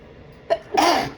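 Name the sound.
sneeze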